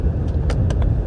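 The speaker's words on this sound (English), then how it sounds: "So if you have that vibration at those low RPMs once the car is hot" A 2009 BMW 328i automatic idles at low RPM with a transmission shake. A loud, dense low rumble fills the car, with a couple of brief hissing and rattling bursts on top.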